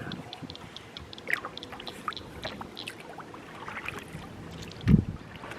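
A canoe paddle dips and strokes through water, with soft splashes and drips against faint wind and one louder splash near the end.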